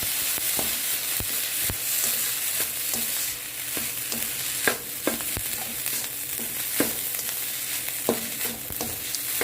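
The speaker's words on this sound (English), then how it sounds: "So we're adding our soy sauce, and how much you add is dependent on how dark you like your fried rice." Soy sauce sizzles loudly in a pan of frying egg, spinach and chorizo rice, a steady broadband hiss broken by sharp crackles and scraping stirs throughout, with no talking.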